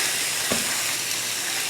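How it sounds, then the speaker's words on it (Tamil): Chicken goes into a hot pan of sautéed onions for a chicken gravy, with a soft thud followed by a loud, steady hissing sizzle. "அதில் சிக்கன் சேர்த்துடலாம்."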